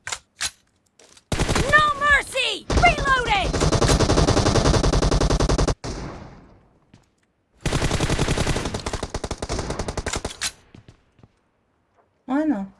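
Long bursts of automatic rifle fire from a PUBG Mobile match as a full magazine is emptied, loud and sustained, with a pause and then another extended burst, plus a few short separate shots.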